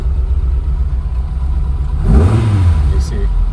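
A rebuilt 1977 Ford Escort RS2000 MK2 rally car with a 2.0L Pinto engine and five-speed gearbox idles with a low rumble, then gives a single quick rev that swells and falls away, close by.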